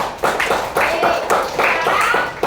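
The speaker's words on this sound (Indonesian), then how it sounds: "Benar sekali, tepuk tangan dulu." A classroom of students claps together in short rhythmic bursts, several distinct rounds of close, brisk hand claps with a few voices mixed in.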